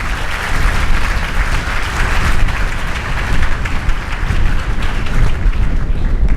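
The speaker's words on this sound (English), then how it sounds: "you can clap for that" Sustained, dense clapping from an audience at a leadership speaker series event, a loud continuous wash of many hands with no break.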